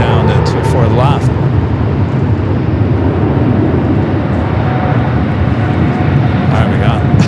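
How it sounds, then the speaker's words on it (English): Delta Airbus A321neo jet rolling for takeoff on runway 24 left at Los Angeles airport, a steady broadband engine roar that holds loud and constant throughout, with speech faintly over it. "Got that Delta A321neo now rolling down to 24 left."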